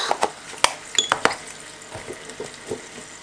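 Chicken being mixed with paprika and oregano in a bowl, with scattered clinks and scrapes of a utensil against the dish and soft, wet stirring sounds in between.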